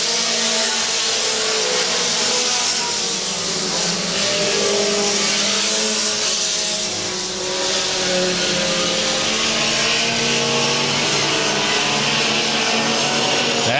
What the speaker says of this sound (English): White flag in the air one more time around.